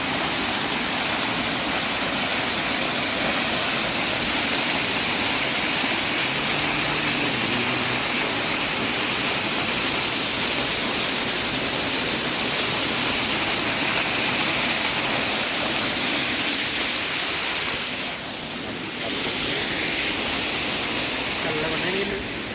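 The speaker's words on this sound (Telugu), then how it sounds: "ఆ పవిత్రమైన జలధారాన్ని కొంచెం మన తల మీద జలుపుకుందాం" Sacred waterfall stream at Murga Mahadev Temple, pouring as a loud, steady, unbroken rush of falling water that holds close and constant throughout, dipping only slightly near the end.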